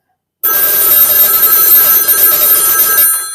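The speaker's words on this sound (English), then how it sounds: "going to put it through a ring cycle as though we were getting a call" A loud, close electric telephone bell on a fire-damaged telephone rings continuously for about three seconds, a harsh metallic clatter that starts abruptly after a brief silence.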